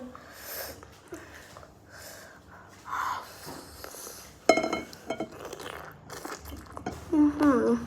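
Crunchy pickled jellyfish being chewed close to the mic, with wet crunching bites and chomps scattered through, breathing and soft mouth sounds between, louder crunches near the end.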